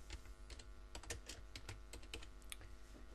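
Typing on a computer keyboard as a file name is entered, a quick, uneven run of close key taps over a faint steady hum.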